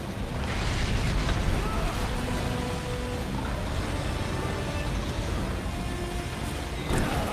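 Boat cutting through ocean waves in the Resident Evil 4 Remake game, a steady loud rush of water and wind noise that holds throughout with a brief surge near the end.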